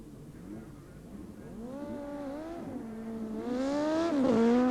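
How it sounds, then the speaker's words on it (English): Supercharged Suzuki street motorcycles race at Blyton in 1990, their engines building from a distant drone to a loud, rising howl with shifting pitch as they approach. "This is John Bent, and he's racing Gary Westerby. Both machines blown Suzukis."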